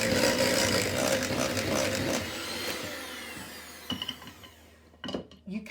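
A handheld electric mixer whizzes lemon cake batter for a St Clements cake. It gives a loud, steady whir for about three seconds, then winds down to near quiet with a few soft knocks.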